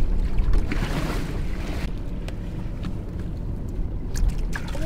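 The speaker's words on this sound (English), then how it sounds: "try and kite alongside the boat while it's under sail." Sailboat moving under sail in very light wind, a soft wash of water along the hull mixed with gusty wind buffeting the microphone, a few faint knocks and creaks, no voices.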